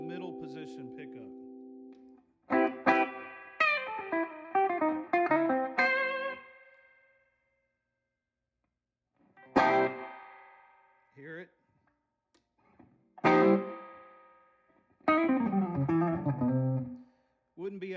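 Electric guitar on the middle pickup played through a 1963 Ampeg Reverb Rocket amp at low volume, short chords and single notes ringing out into a springy reverb tail, with brief talking between phrases.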